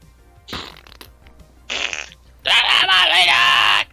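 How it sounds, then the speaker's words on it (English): A fart sound for a fart alert comes in three bursts: two short blasts, then a long, loud, buzzing one. It is close and sounds on its own. "We gotta do a fart alert."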